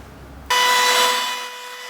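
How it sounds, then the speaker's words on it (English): A laminate trimmer with a bottom-bearing flush-cutting bit routes wood around a mast partner inside a small boat, starting abruptly with a high whining buzz that stays loud, then eases a little. "I'm just using my laminate trimmer with a bottom bearing flush cutting bit, just following the mast partner inside the boat"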